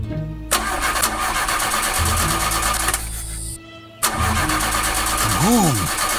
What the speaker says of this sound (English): Some water must have got into the engine.